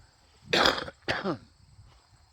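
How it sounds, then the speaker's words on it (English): Two throaty cough-like bursts in quick succession, close and fairly loud, followed by quiet and a tiny click at the end. "I have to cough."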